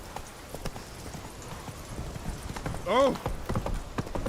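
Hoofbeats of Geralt's horse Roach galloping in The Witcher 3, a steady rapid clip-clop carrying on under a man's exclamation, with a brief whinny partway through.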